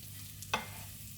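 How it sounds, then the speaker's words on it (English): Mushrooms frying in a pan, with a low steady sizzle and one sharp stirring scrape partway through, close and alone. "I'm going to add the mushrooms now, give them a chance to cook"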